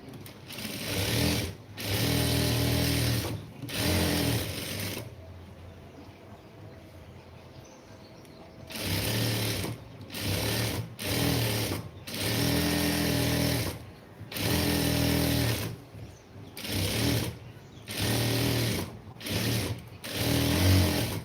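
A sewing machine stitches a side seam on a blouse in repeated bursts of fast, steady whirring, each run lasting a second or a few seconds, separated by short pauses and one longer quiet gap.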